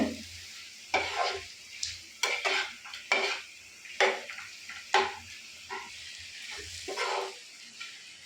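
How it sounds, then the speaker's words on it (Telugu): Grated raw mango and peanuts stirred in a pan, a spoon scraping and clinking against the metal in an irregular rhythm of repeated strokes, close and moderately loud, with a faint sizzle between strokes. "మనం మామిడికాయ గ్రేడును పల్లీలు బాగా మిక్స్ అయ్యేటట్టు కలుపుకొని"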